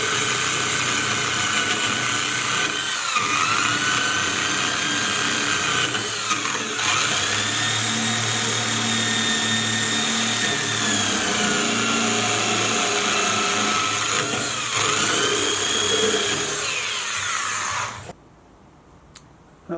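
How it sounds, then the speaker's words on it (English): A corded drill with a stripping attachment grinds paint off the new frame head of a 1967 VW Beetle, a loud sustained whine whose pitch dips and rises under load for about eighteen seconds before cutting off to near silence. "So I'm just going to use my old faithful corded drill"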